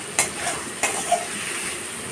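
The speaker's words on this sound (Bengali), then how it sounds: "লবণ, হলুদ, টমেটো সব দিয়ে ভালো করে কষে নিব" Bottle gourd sautéing with salt, turmeric and tomato, a soft continuous sizzle punctuated by a few sharp clinks of a utensil against the pot.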